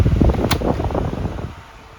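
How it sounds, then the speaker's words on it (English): A cleaned Lakewood 12-inch oscillating fan, model 1200-A, runs steadily with a broad airy whoosh and low motor hum, fairly close, with a brief sharp tick partway through. "It's like box fan motor sounds."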